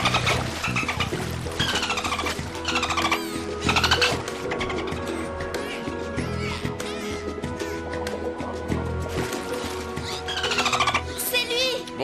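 Rapid clicking sounds from an animal come in bursts over a busy, watery background, with a voice heard faintly now and then.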